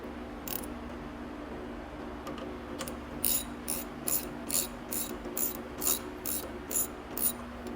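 Steady ratchet clicking while tightening a ProCharger accessory drive on a big block engine, a close, regular series of about ten sharp strokes over a constant low engine-bay hum.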